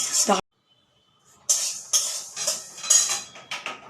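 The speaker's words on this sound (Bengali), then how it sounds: "এই দেখো চিড়েটাও দিয়ে দিলাম একটু নাড়াচাড়া করে একটু ভেজে নিই" Flattened rice (chira) being stirred and fried in a pan after peanuts, with bursts of scraping and clinking of a utensil against the pan, a short silent gap, then repeated stirring strokes, close and fairly loud alongside talking.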